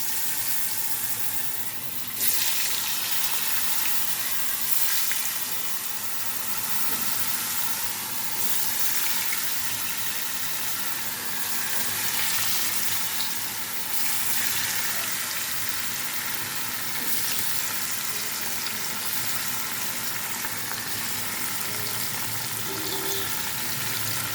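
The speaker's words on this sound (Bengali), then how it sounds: "হাফ চামচ মতো লবণ এর উপরে আস্তে আস্তে পনিরগুলো দিয়ে ভেজে দেবো" Paneer pieces fry in a pan seasoned with turmeric and salt, producing a steady, close, broadband sizzle that holds through the whole stretch without speech.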